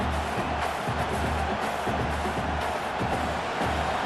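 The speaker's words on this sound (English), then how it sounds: "Listen to the crowd energy here in the early going" Stadium crowd noise at an Alabama vs Oklahoma college football playoff game, a steady dense roar of cheering fans filling the whole stretch without clear breaks.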